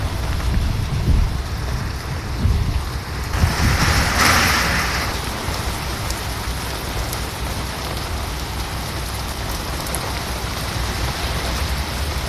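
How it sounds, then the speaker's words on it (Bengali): Heavy rain driven by gusting wind during a Kalbaishakhi-type storm in Rangpur, heard as a dense, steady roar of downpour and wind noise throughout, with a brief louder gust midway. "পাথর পড়তেছে না, কিন্তু মোটা অঙ্কের বৃষ্টি পড়তেছে।"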